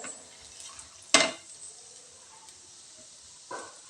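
Coarse-ground masala for a sweet amla pickle roasts quietly in a pan, with a faint sizzle broken by two sharp scrapes of stirring, one loud and one softer.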